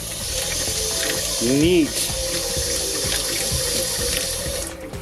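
Water runs steadily from a faucet into an RV sink, a constant close splashing hiss, with a brief squeak of the tap and a short spoken word over it.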